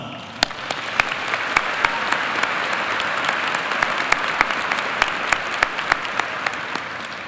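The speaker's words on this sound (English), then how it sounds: "Please join me in thanking them with a round of applause" A commencement audience at the 2019 Carlson School undergraduate ceremony applauds steadily, a dense wash of clapping with sharp individual claps standing out, sustained throughout at moderate loudness.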